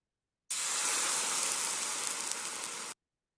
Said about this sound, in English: here I might add a sizzling sound effect